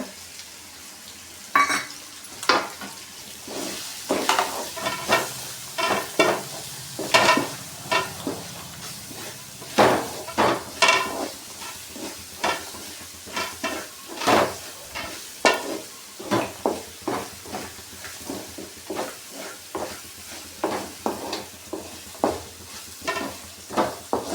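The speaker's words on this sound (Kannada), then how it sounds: "ನೋಡಿ ಈ ರೀತಿ ಚೆನ್ನಾಗಿ ಫ್ರೈ ಮಾಡ್ಕೊಳ್ಳೋಣ" Masala for chitranna frying in a pan, a low sizzle under frequent rhythmic scrapes and taps of a spoon stirring, close and moderately loud throughout with no talking.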